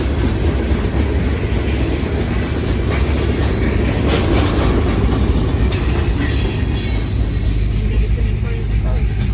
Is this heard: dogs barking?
no